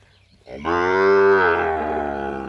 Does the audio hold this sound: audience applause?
no